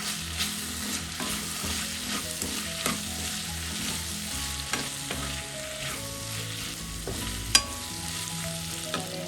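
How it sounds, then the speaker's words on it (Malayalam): Beans and potato masala with turmeric and coriander powder being stirred in a pan, a steady sizzle of frying with repeated scraping strokes of a spoon, close and moderately loud, no talking. "എല്ലാം കൂടെ ഒന്ന് മിക്സ് ചെയ്യാം."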